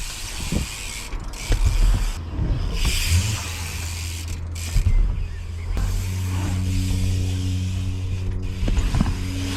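A BMX bike doing Vader slides, with tires scraping and skidding across the ground in several separate bursts and mechanical creaks and rattles from the bike between them, close by.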